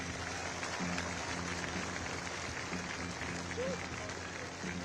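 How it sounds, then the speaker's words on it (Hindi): Faint, distant crowd applause at an Indian Air Force drill display rehearsal in Prayagraj, continuous clapping under steady background noise and a low hum. "मैं देखना चाहूंगा कि प्रयागराज के नगरवासी कितनी जोर की तालियां बजाते हैं।"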